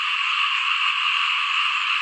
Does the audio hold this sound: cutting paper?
no